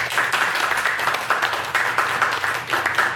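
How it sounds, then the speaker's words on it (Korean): An audience at a lecture concert in a hall gives steady applause to welcome a speaker to the podium, a dense, even patter of many hands clapping for about three seconds with no voices. "박수로 모시겠습니다"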